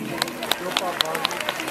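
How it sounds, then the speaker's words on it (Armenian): A concert audience in Goris claps for the Narekatsi orchestra at a gala honoring Ashugh Ashot. The claps come in a fairly regular, rhythmic patter over a dense crowd wash, with a voice running beneath. "շնորհակալություն հայտնենք և ծափահարենք նաև մեր նվագախմբին"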